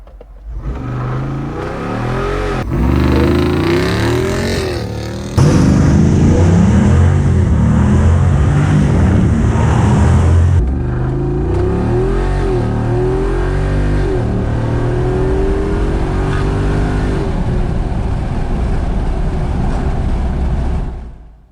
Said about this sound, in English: the Jeep is accelerating 0 to 60 miles per hour in roughly 5 seconds